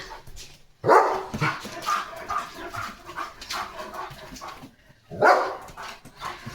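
A German Shepherd gives two sharp yelping barks a few seconds apart, with softer whimpering and snuffling sounds in between, fairly close.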